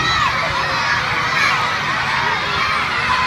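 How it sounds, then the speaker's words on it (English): Excited schoolchildren shout and cheer loudly during a school golf game, a continuous busy crowd roar with high-pitched voices close by. "Cheer them on, nice and loud."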